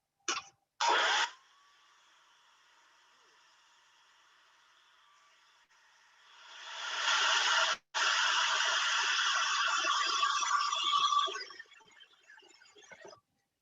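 A hissing airbrush-style sprayer blows alcohol ink on glass in short bursts, then a long steady spray rises and holds for several seconds before trailing off, close up.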